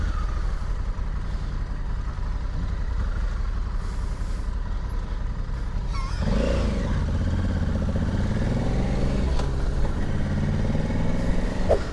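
Honda Africa Twin Adventure Sports 2021 motorcycle riding on a rough road, a steady engine drone and wind rush with a rising gear pitch partway through, heard from on board.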